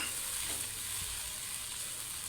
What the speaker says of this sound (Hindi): अगर आप दाल का जायका मज़ीद बढ़ाना चाहते हैं तो आखिर में थोड़ा सा घी का तड़का ज़रूर लगाएं।